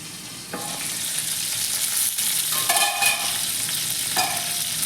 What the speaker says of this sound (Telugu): లో ఫ్లేమ్లో ఇలా మూత పెట్టుకొని ఫ్రై చేసుకోవాలి